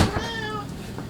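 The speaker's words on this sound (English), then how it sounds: "And my cat will serenade us." A cat meows once in a home kitchen while oatmeal bread is being set up in a bread machine: a single close, drawn-out, tonal cry lasting about a second.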